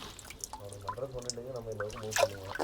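Forest spring water pouring through a small hole, a steady trickling splash with small drips, heard close under a voice talking throughout.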